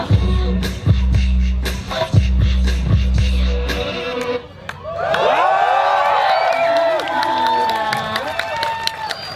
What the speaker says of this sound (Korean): 다시 한번 뜨거운 박수 함성 좀 크게 부탁드리겠습니다.